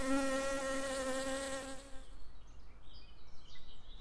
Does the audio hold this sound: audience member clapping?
no